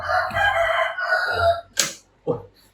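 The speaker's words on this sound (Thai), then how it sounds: "เสียงไก่ขัน" A farmyard rooster crows loudly close by in the middle of the day, a full drawn-out cock-a-doodle-doo followed by a short second call, with no other voices.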